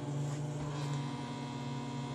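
A microwave oven runs with a steady low electrical hum and drone, constant and unbroken.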